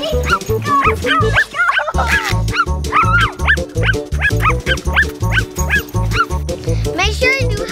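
A puppy barks and yips repeatedly in quick, close, loud bursts with a few whimpering tones, nearly continuous over steady background sound.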